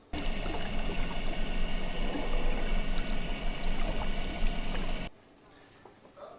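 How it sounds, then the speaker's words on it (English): A boat's echo sounder, a depth-measuring sonar, recorded underwater near a boat: dense continuous broadband noise with faint high chirps for about five seconds, then an abrupt drop to quiet. "so it's a sonar to measure the depth used by a boat."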